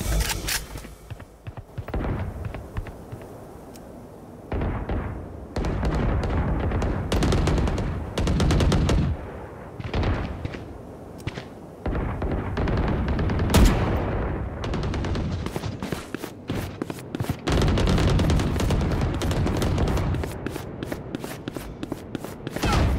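Gunfire in the first-person shooter Valorant: dense bursts of automatic weapon fire and sharp single shots, loud and close, with rapid rattling volleys and brief pauses throughout, no voices over it.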